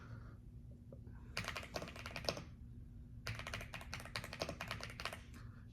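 Typing on an AULA wireless RGB mechanical keyboard, two bursts of quick clicky keystrokes separated by a short pause, close and fairly quiet over a low steady hum.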